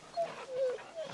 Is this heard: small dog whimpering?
yes